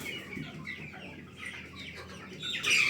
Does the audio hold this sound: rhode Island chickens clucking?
yes